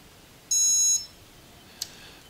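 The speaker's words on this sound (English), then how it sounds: "hearing some beeps" A single steady electronic beep tone from an FUAV Seraphi GPS quadcopter powering on, lasting about half a second, followed by a brief faint click, in a quiet room.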